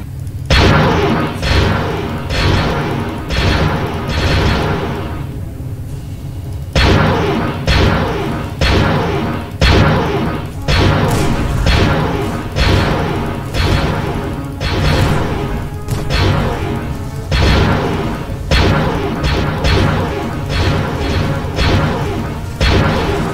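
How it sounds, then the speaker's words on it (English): Ship cannon fire and explosions in the Roblox space game Project Stardust, a loud relentless barrage of booming blasts in rapid repeated bursts, with one short lull partway through. "we're firing upon this enemy ship"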